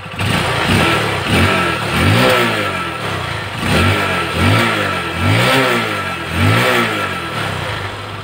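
A Honda TMX Supremo 150cc motorcycle engine, just back from a carburetor cleaning, revs loudly and close in repeated rising throttle blips, about eight surges over a steady running engine, with no talking.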